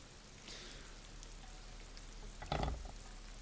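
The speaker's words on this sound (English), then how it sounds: "The sound of the rain is making me a bit" Steady rain in the video game Disco Elysium patters and hisses on a surface, fairly soft and continuous, with a brief louder splash of drops partway through.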